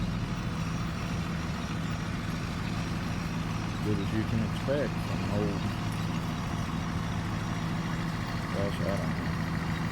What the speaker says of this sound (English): Mid-90s drill and an early 90s tractor.